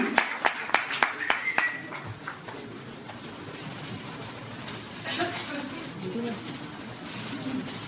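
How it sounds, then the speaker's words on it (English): Applause from the audience at a Mumbai festival announcement event attended by Shilpa Shetty and Ankit Tiwari, with a few sharp claps at first, then fading into a murmuring crowd and voices. "Let's have a huge round of applause"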